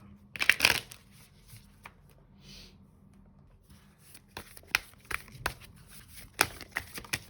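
Oracle cards for a tarot reading shuffled by hand, bursts of crisp riffling and flicking close by, a loud flurry at the start, then a quiet pause and a run of sharper card snaps.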